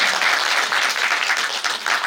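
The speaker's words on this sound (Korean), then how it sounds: "뜨거운 박수로 감사합니다." Loud, close applause from a film screening audience greeting the director, many hands clapping in a full, sustained burst that barely dips before ending.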